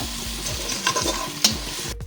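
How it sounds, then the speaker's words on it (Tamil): Spiced garam masala paste frying in hot oil for chicken biryani, a steady close sizzle with scraping stirs and a couple of sharp utensil knocks, no talking. "இந்த பவுடர் பண்ணி வச்ச கரம் மசாலா போட்டு நல்லா ஆயிலே ஃப்ரை பண்ணுங்கள்"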